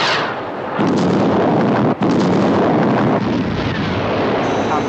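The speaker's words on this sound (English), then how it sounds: "Visual contact with explosion." A missile detonates in a fictional air-defence scene: a loud, sustained roaring blast with heavy rumble that fills the whole stretch, broken only by a split-second dropout near the middle.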